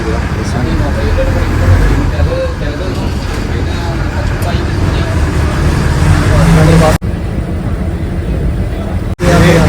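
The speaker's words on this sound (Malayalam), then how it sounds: "അങ്ങനെ മറ്റൂരേക്കുള്ള ബസ് കയറിയിട്ടുണ്ട്" Inside a moving bus in Kerala, a loud steady engine rumble and road roar fill the ride, with passengers' chatter and traffic noise mixed in, briefly dropping away twice.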